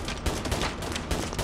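Gunfire in the mobile shooter Call of Duty Mobile, a burst of rapid, loud shots and impacts packed into a short moment, with no voices.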